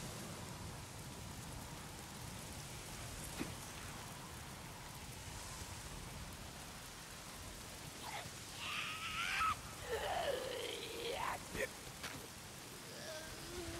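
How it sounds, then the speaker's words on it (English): Rain falls in the video game Days Gone, a steady hiss of rain on surfaces with pattering drops, fairly quiet and continuous, with a brief rumble of thunder in the background. "Oh, it is raining."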